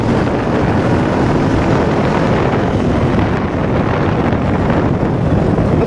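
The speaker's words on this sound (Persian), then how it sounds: "من دیگه حرف نمیتونم زیاد بزنم به خاطر صدای باد" Strong wind buffets the microphone outdoors beside a busy boulevard, producing a loud, continuous rumbling roar that fills the whole stretch without letting up and with no voice over it.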